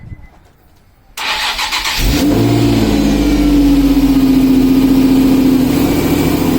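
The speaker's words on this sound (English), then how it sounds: "Alright, so we're going to go ahead and do the first startup." A Nissan 350Z with a newly fitted dual cold air intake cranks briefly and then fires up, settling into a loud, steady, close idle with a deep engine drone.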